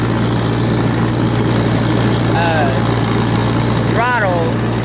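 A Farmall 350 tractor drones steadily throughout, its engine set at a fixed throttle for bush hogging with a Woods 208 cutter. A couple of brief voice-like sounds rise over the constant hum.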